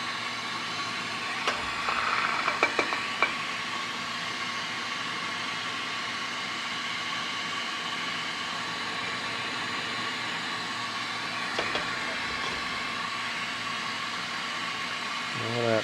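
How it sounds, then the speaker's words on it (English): Constant broadband roar of a lampworking glass torch and workshop ventilation fan, a steady hiss filling the whole stretch, with a few faint brief clinks near the start and middle. "the headphones help cut out all the noise of the torch and the ventilation"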